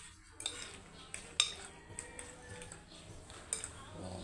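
Vegetable ingredients being mixed in a bowl make faint clinks of a spoon against the dish and soft stirring scrapes, with a few sharper taps scattered through, all quiet and close while a voice speaks softly now and then.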